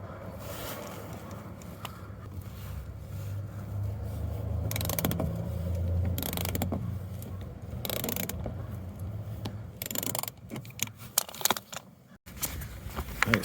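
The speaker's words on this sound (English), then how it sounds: "I'm gonna use an 8mm socket wrench to remove it" An 8mm socket wrench works a bolt loose on an HID headlight ballast and igniter, giving repeated close ratcheting clicks and metallic mechanism sounds over a steady low background hum.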